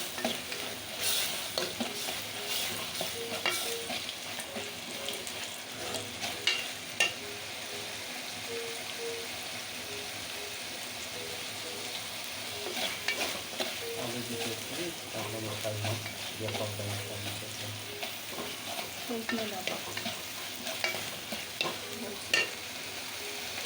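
Spice paste (masala) for a Bengali pabda fish and drumstick curry sizzles and fries in a pan while a spoon scrapes and stirs it in irregular bursts, fairly close, with occasional faint background voice.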